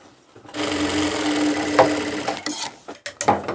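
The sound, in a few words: sewing machine stitching pajama fabric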